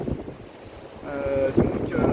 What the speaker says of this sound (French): le vent s'est encore plus levé par rapport à tout à l'heure. Là, on est plus sur des rafales de 110 km/h.